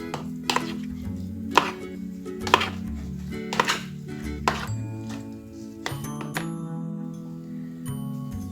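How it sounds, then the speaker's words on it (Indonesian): A knife cuts down through an eggplant into four pieces on a board, with several sharp taps and thunks at irregular intervals over a low hum of background music. "Lalu terongnya ini kita belah menjadi 4 ya guys, tapi jangan sampai putus"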